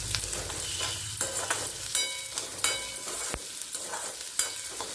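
Onions sautéing with a pinch of salt in a pan for sundaikkai thokku: a continuous soft sizzle broken by frequent spatula scrapes and clicks against the pan, close and alone.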